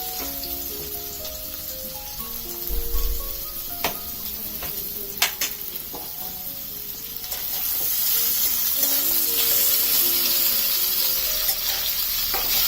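Ginger pieces fry in hot oil in a kadai, giving a steady close sizzle with a few clinking stirs. The hiss swells louder and fuller toward the end, with soft music underneath.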